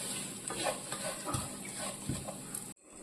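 Spice powder is stirred into a hot pan with the heat off, giving a steady, close scraping and stirring with a light sizzle for under three seconds before it cuts to near silence.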